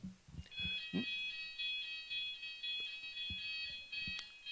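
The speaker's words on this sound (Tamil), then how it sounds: "அலாரம் நினைக்கிறேன்." An electronic alarm beeps during a church service, a steady high tone held for several seconds in a quiet hall, with soft knocks and shuffling underneath.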